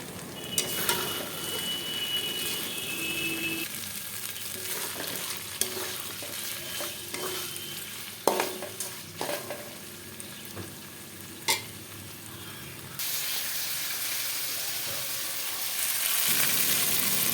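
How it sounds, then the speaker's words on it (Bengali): Peas being stirred into sizzling spiced masala for vegetarian ghugni, with a spoon scraping and clinking against the pan in irregular strokes over a steady frying hiss that grows louder near the end. "এরপরে আমি এবার দিয়ে দেবো মটরগুলো এর সঙ্গে ভালো করে নেড়ে চেড়ে নিতে হবে"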